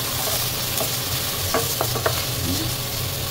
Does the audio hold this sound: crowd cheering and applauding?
no